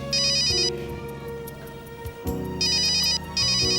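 A telephone ringtone signals an incoming call, bright repeating electronic tones in short bursts separated by brief gaps, sounding clearly and close over a faint musical background.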